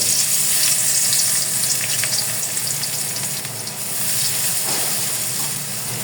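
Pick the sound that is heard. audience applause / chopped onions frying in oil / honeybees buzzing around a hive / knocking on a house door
chopped onions frying in oil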